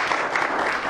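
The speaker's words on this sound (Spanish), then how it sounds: "Denle un aplauso al Todopoderoso" Worshippers in a church break into brief applause for God, a loud, dense burst of many hands clapping at once with no talk over it.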